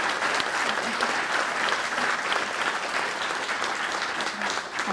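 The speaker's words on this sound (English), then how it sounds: "can we just give Laura a round of applause?" A studio audience gives a guest named Laura a round of applause at a talk event: dense, steady clapping from many hands fills the whole stretch at an even level, with no voices standing out.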